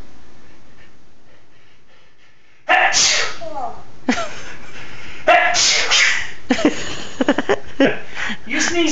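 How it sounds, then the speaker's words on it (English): A pet parrot sneezes repeatedly at close range, a series of sharp, breathy bursts with short pauses between them, while a person talks softly in the background. "You sneeze too? God bless you."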